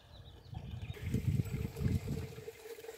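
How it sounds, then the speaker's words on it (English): Garden drip irrigation lines switching on in a backyard in mid-April, giving a soft hiss and trickle of water with a low rumble, swelling after about a second and staying steady and fairly faint. "I hear the drip lines turning on."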